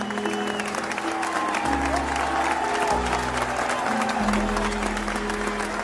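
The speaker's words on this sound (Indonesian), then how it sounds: "Beri tepuk tangannya." Applause in a Sakura School Simulator game scene, steady clapping noise with a low music bed shifting underneath, played at moderate level throughout.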